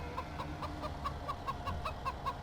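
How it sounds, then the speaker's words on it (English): Chickens cluck in a steady run of short, repeated calls on a farm, with low rumbling background noise beneath and no speech. "Gotta mind the chickens."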